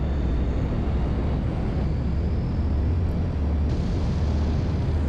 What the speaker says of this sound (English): I heard something that sounded like powerful engines